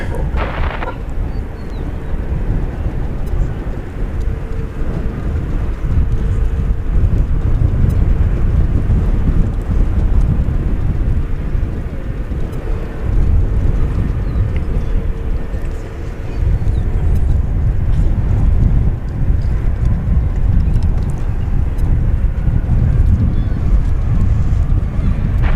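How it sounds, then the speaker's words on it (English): An Airbus A320 airliner at Dallas Fort Worth Airport gives a loud, continuous low rumble of jet engines, heavy wind-like roar with a faint tonal whine, sustained throughout. "It's an Airbus A320."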